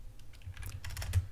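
Rapid light keystrokes tap on a computer keyboard while numbers are typed into a JavaScript tile map editor, about a dozen quick clicks at close range with no voices.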